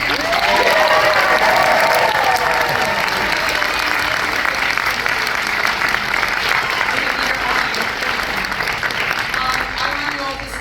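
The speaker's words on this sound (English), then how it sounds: "Round of applause for Andy and" A packed cinema audience at a screening Q&A in Los Angeles breaks into loud applause with some cheering, a thick continuous roar of clapping that stays strong before tapering slightly at the close.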